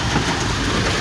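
Dense, steady hiss of heavy rain pours continuously, loud and close, with no pauses.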